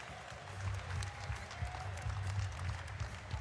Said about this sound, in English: a round of applause once again for these 2 warriors